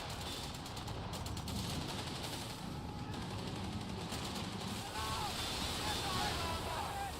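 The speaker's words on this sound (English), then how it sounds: "Infantry firing at us!" Infantry gunfire on a Company of Heroes battlefield, rattling bursts of small-arms and machine gun fire at a moderate distance over a constant rumbling din, with voices calling out over the noise.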